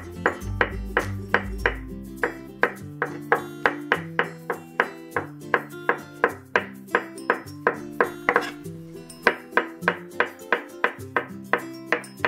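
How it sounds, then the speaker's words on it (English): A knife slices mushrooms into thin slices on a cutting board, producing a long run of quick, even taps at a steady pace, close and clear, over a soft low background tone. "let's slice the mushrooms. And I'm going to cut it into thin slices"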